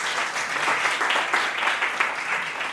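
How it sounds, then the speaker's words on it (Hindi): An audience at a Kahat Kabir symposium in a hall breaks into sustained applause, a dense, even clapping that holds steady throughout with no speech over it. "क्योंकि ताली बजी"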